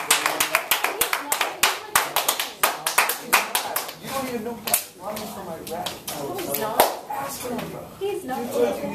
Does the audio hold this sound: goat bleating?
no